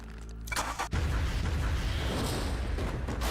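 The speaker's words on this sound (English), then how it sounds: "They literally showed the explosion in the flashback." Car explosion in a Yakuza game flashback, with a few sharp hits followed by a loud, heavy blast that swells into a long, rumbling roar lasting several seconds.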